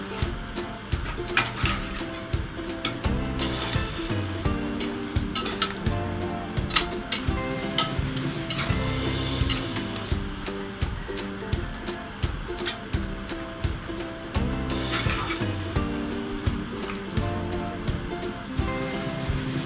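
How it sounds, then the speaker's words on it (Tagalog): Coconut milk coming to a boil in a cooking pot, a dense, steady bubbling and simmering hiss with crackling pops, continuous and close throughout with no talking. "Ngayon na po, kumukulo na."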